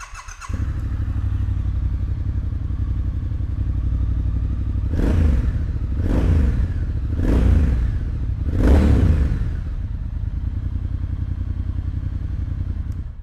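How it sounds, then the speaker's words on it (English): A modern Triumph Speed Twin motorcycle engine starts with a quick crank and settles into a deep, steady idle, then revs up sharply four times before dropping back to idle. "So let's fire this one up and have a listen."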